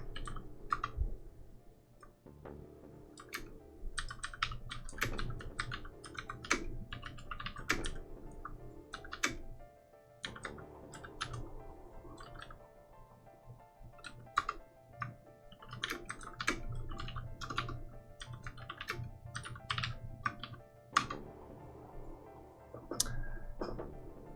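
Steady typing on a computer keyboard during a live game stream, with quick irregular bursts of key clicks and brief pauses, close and fairly quiet, no talking.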